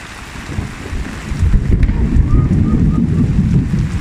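A deep, low rumble of nearby thunder swells midway and rolls on steadily, with rain and wind noise in the background, at a bee farm on Phu Quoc, Vietnam.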